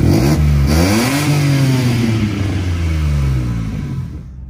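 A CityBug car engine revs hard and then settles back down, its repaired exhaust sealed with a fresh joint and fitted with a DB killer, giving a loud, close, deep rumble that fades out at the end.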